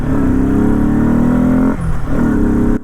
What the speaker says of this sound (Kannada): ಬೈಕ್ನ ಸ್ವಲ್ಪ ರೇಸ್ ಕೊಟ್ರು ಸಾಕು, ಹಾಗೆ ಹಾರುತ್ತಲ್ಲ ಗುರು.